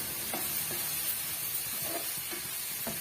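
Egg stirred with masala in a hot pan for street-style masala puri, a steady sizzling hiss with several faint, rhythmic spatula taps and scrapes, heard alone without talking.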